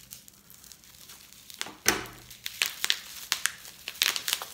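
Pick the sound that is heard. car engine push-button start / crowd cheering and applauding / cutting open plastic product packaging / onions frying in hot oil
cutting open plastic product packaging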